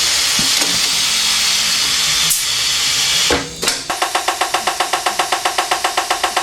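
Air hisses loudly and steadily into a tire on a 1964 Buick Riviera for about three seconds, then stops and gives way to a fast, even series of sharp mechanical pulses.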